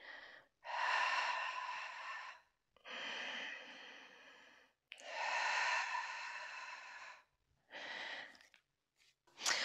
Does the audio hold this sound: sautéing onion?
no